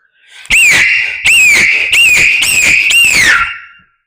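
A mimicry artist blows a fast, loud, shrill whistle in a rapid run of five or six piercing bursts that join into one sustained, warbling tone, close and very loud, with no talk over it.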